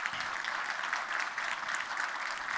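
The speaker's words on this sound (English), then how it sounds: "so a round of applause for her" Audience at a changemakers talk applauds the speaker's mother, a steady, moderately quiet spread of many hands clapping, sustained evenly and heard alone without voices.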